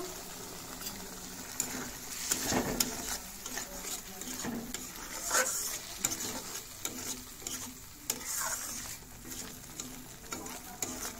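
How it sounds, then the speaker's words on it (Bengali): Rohu fish pieces frying in a pan, a steady sizzle with scattered stirring scrapes and clicks, close and moderately quiet, no voices. "তো চলো এগুলাকে কিছুক্ষণ ফ্রাই করে নিই"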